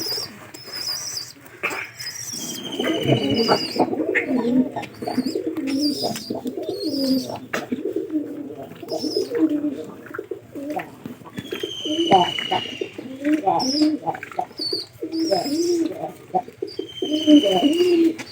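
Pigeons coo in low, repeated bubbling calls close by throughout, with occasional wing flaps and higher chirps from other birds overhead.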